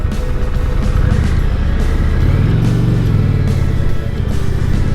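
An Indian Challenger motorcycle engine drones loudly and close. Its pitch climbs as the throttle opens midway, then settles back into a steady rumble beneath wind rush.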